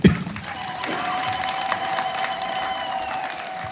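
An audience at a catechists' gathering applauds for a priest, a sustained crowd clapping with some cheering, opening with a sharp bang and carrying a faint whistle-like tone through the middle.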